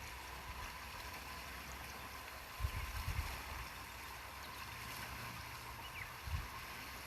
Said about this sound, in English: My favorite is the waves.